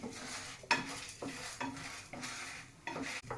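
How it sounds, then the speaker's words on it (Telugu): Curry leaves and chillies fry in a pan for curry leaf powder, with spoon-stirring scrapes repeating about every half second over a steady crackle, close and moderately loud. "golden brown వచ్చిందాక వేయించాలంట"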